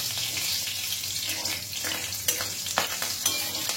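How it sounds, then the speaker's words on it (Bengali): Half a spoon of black cumin and two slit green chilies sizzle in oil left over from frying fish, a dense close crackle with a few sharp scrapes and knocks as the tempering is stirred. "মাছ ভাজার ওই তেলের মধ্যে দিয়ে দিচ্ছি হাফ চামচ মতন কালো জিরে আর দেব দুটো চিরা কাঁচা লঙ্কা"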